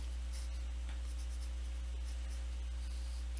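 A pen scratches steadily across paper while a small table of values is written out for graphing polynomials, faint and continuous over a low steady hum, with no talking.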